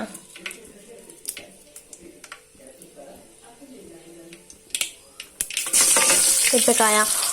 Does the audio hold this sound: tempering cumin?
yes